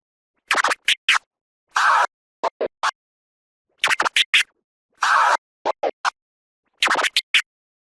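DJ turntable scratch combo played on a record, with sharp, close bursts of scratching in short rhythmic phrases: quick chopped cuts alternating with longer dragged strokes, separated by brief silences and no talking.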